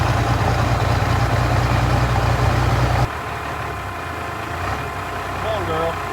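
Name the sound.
old diesel engine running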